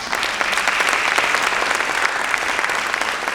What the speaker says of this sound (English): And again, round of applause for these guys.